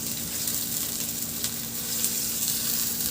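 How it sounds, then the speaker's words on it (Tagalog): Garlic and ginger sizzle steadily in hot oil in a pan, a continuous dense frying hiss with no talk. "Sa kawali, nagpainit ako ng mantika. Igisa ko na rin yung bawang at saka luya."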